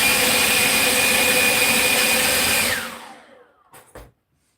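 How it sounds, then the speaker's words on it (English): A cordless Kobalt blower runs with a loud steady whoosh and whine close by, then spins down and stops, followed by a few brief handling knocks in near silence. "now this is the blower. The blower works."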